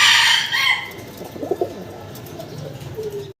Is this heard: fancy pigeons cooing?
yes